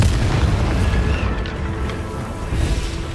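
Casting the Confringo spell in a Harry Potter video game sets off a deep, rumbling explosive boom that stays loud and sustained over a few seconds.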